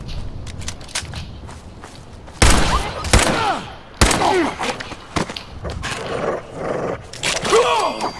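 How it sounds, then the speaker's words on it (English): Hunting rifle shots ring out in the video game Fallout 4, with several sharp blasts a second or so apart amid in-game footsteps and quieter background activity. "Hunting rifle."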